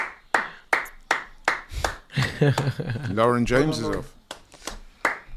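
One person claps hands in a steady run of sharp single claps, then stops while someone speaks, then resumes with a few more claps, close and loud.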